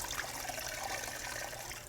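Rinse-free wash product running from a lightly squeezed wash towel, a continuous close trickle of liquid, fairly soft and heard alone.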